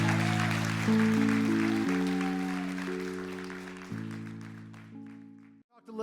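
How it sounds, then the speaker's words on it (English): An audience applauds in honour of strong Jewish women, a soft, dense patter of clapping under loud sustained organ-like chords, fading away near the end. "if you could give a round of applause to them"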